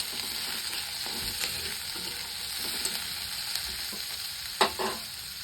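Onion and curry leaves sizzle steadily in hot oil with green chilli, a close, continuous frying hiss broken by a few sharp spatters and the scrape of stirring.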